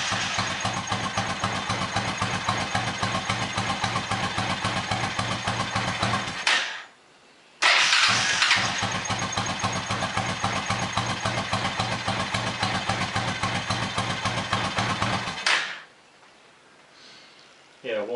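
Small engine running at a steady idle, loud and close, cutting out abruptly around seven seconds, restarting at once and running evenly again before stopping near fifteen seconds; it will not rev above a certain RPM.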